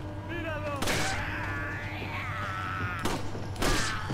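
Gunfire in Resident Evil 4, two or three sharp loud shots spaced over a few seconds, with lower game sounds between them.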